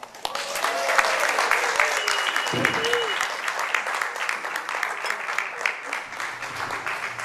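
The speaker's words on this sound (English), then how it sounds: "A big round of applause for all" Applause fills a wedding reception during the speeches, a dense, steady clapping from a crowd that swells quickly and holds throughout, with faint voices mixed underneath.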